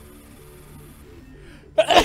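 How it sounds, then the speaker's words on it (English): A person sneezes once, loud and close, in a sharp burst at the very end. Before it there is only a faint, quiet background from a PC action game. "I'm gonna sneeze again."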